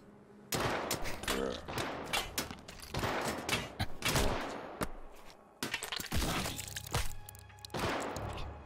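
Gunfire from a gang war in a video game crackles in rapid, loud bursts, dense volleys of shots with brief pauses between clusters, sustained across the whole stretch.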